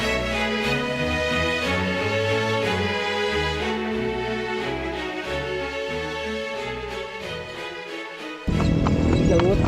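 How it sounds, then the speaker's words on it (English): Clip-clop of a horse pulling a tartanilla carriage through the historic town of Boljoon, Cebu, steady rhythmic hoofbeats under loud music that fills the whole stretch, with a brief noisy burst near the end. "So guys, we're already on this Filipino carriage or the horse carriage"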